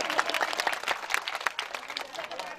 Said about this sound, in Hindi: तालियां बजा दीजिए भैया।